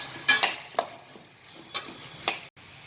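Boiled, finely chopped potatoes are stirred into a spice mix in a pan for samosa filling, giving a few sharp spoon clinks and soft scrapes spaced irregularly over a quiet background.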